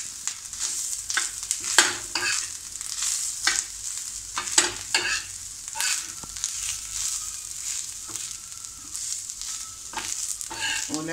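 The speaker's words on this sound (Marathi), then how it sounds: "थोडं ओलं खोबरं आपण परतून घेऊया।" Fresh grated coconut sautéing in a pan with browned onion, a continuous sizzle broken by repeated scraping and stirring strokes of a spatula, close and fairly loud, with no talking.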